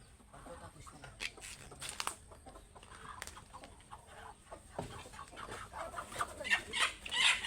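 Hen clucking in short, irregular bursts at moderate distance outdoors, with other faint farmyard bird calls and rustling around it, growing a little louder toward the end.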